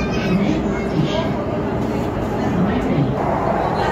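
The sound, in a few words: Pune metro train running at speed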